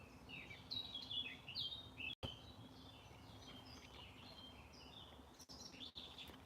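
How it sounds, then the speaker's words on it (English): Birds chirping and tweeting in a quiet back garden, bright scattered calls rising and falling over a soft steady background hiss, moderately near but faint. "the birds start to cheep again"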